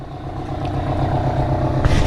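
A dump truck engine with loud exhaust pipes rumbles steadily and close by, with a brief clatter near the end.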